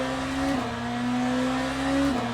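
Hypercar engine droning steadily at high revs in an endurance racing sim, a loud, close tonal whine that dips briefly twice as gears shift, with road and wind noise beneath.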